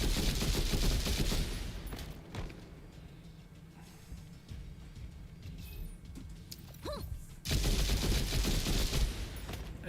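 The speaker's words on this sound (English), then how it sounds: "Is that machine gun fire?" Machine gun fire in a video game: dense rapid bursts at the start and again near the end, with a quieter stretch between them, fairly loud and continuous with no talk over it.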